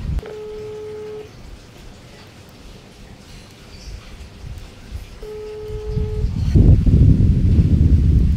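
A telephone call rings out unanswered: two long steady ringback tones, separated by a quiet pause, sound over faint background rustle, and louder low rumbling noise builds toward the end.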